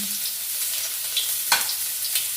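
Close, steady sizzle of oil in a pan as ingredients are sautéed for laing, a taro-leaf dish with coconut milk, broken by a few light clinks and stirring scrapes.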